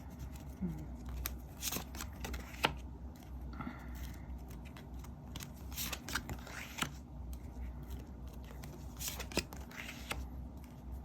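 Tarot cards are shuffled and drawn in short crisp riffles and soft slaps, close and quiet, in intermittent bursts over a low background.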